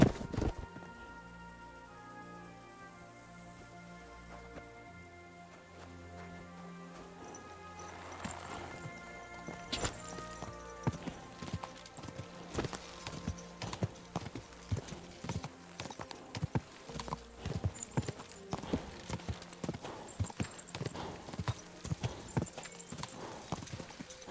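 Rapid hoofbeats of a galloping horse in Kingdom Come: Deliverance II grow louder after a quieter musical opening, continuing as a steady clip-clop rhythm to the end.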